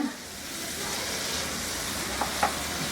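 Green and red chilies frying in oil in a pan while being stirred, a soft continuous sizzle with a couple of faint scraping taps near the end.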